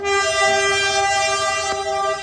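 A train sounding its horn close by, a loud, steady multi-tone blast held for a couple of seconds with a faint rumble of the railcars beneath it.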